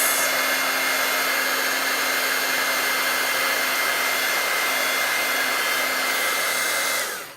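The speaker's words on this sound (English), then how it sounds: "we'll just use the heat tool a little bit more" A craft heat tool blows steadily for heat embossing, a loud continuous whirring hiss with a faint hum, running alone for about seven seconds before cutting off.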